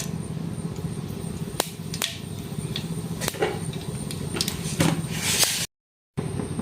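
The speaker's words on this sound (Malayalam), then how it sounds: "കടുക് പൊട്ടിയിട്ടുണ്ട്." Mustard seeds spluttering in hot coconut oil in a pan, with scattered sharp pops and crackles over a steady frying hiss, briefly cut to silence near the end.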